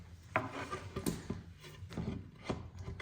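Wooden bathroom cabinet carcass parts knock and rub together during a dry test-fit assembly, giving a handful of sharp taps and scraping bumps at close range.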